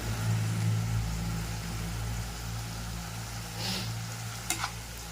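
Ghee goes into a hot pan of cooking banana flower, producing a steady broad sizzle with stirring and a couple of brief clinks near the end, no talking.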